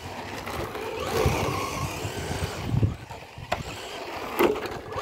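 A small Traxxas Mustang GT 4-Tec 2.0 RC drift car whines and buzzes as it drives, with a few sharper bursts of motor noise and tyre scrub standing out over steady background hiss.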